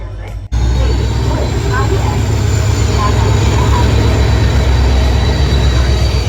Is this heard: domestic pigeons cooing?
no